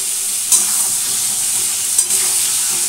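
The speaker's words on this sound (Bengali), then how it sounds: "পটলগুলো ভেজে দিই।" Pieces of pointed gourd (potol) frying in a pan, a steady bright sizzle running throughout with two brief louder spits or stirs, close and alone with no voices.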